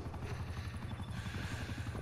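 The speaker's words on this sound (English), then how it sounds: "Enemy chopper gunner established above." A Call of Duty chopper gunner helicopter circles overhead in Nuketown 84, its rotor producing a steady, rapid low thumping throughout, continuous and fairly prominent without talk.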